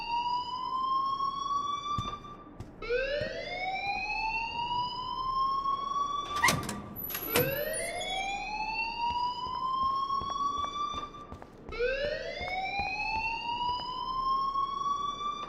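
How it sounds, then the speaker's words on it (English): A school fire alarm in the video game Life Is Strange wails steadily, its rising electronic tone repeating in long sweeps, with faint background clatter and no talk. "please turn off that alarm since that's your job"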